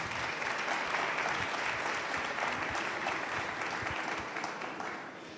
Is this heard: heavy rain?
no